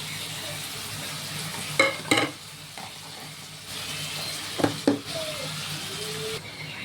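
Coconut milk, squeezed from a mature dry coconut with the flesh strained out, pours into a hot sizzling pan and is stirred, giving a steady frying hiss with two louder bursts of scraping and splashing.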